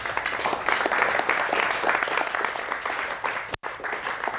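Audience applause after a motivational NLP lecture, a dense, steady wash of clapping from a crowd that holds loud for several seconds, drops out abruptly for a split second, then resumes.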